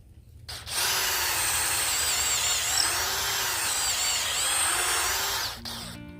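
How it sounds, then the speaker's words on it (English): A power drill bores a hole outdoors for a wire vise on a muscadine vine trellis post, running loud and steady for about five seconds with slight pitch wobbles, then winding down and stopping. "we're just going to bore it out to where that wire vise will slide right in"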